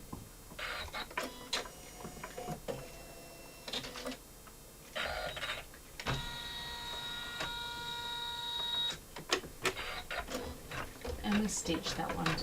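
A sewing machine stitches fabric down onto wash-away stabilizer for a quilted piece, running in several bursts of mechanical whirring and steady whine, with short pauses between runs.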